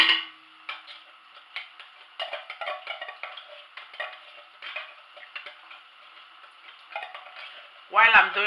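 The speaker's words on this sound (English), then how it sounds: "So I'm going to add my puree tomato now." Tomato puree fries in hot oil in a pot for jollof rice, a soft continuous sizzle with repeated light ticking and stirring scrapes, louder clatter near the end.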